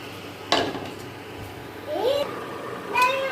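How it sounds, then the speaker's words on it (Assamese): A frying pan is set down on a stove with one sharp metallic clank, followed by a few faint scrapes and clinks of cookware over low kitchen background noise. "এয়া এখন মই পেন বহাই দিছোঁ।"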